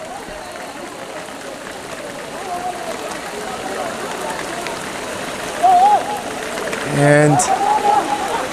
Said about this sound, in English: And the heavy downpour of rain is coming back at us.